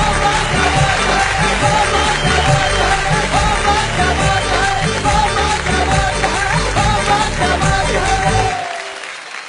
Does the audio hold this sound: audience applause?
yes